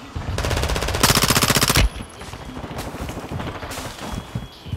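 Rapid automatic gunfire in a military shooter video game, a dense, loud burst of fast repeating shots for nearly two seconds, followed by quieter scattered shots and battle noise.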